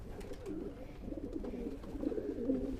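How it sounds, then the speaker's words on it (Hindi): Purebred pigeons in a loft coo in low, rolling throaty phrases, several birds overlapping nearby at moderate volume with no talk. "बहुत ही अच्छे और नस्लदार कबूतर हैं।"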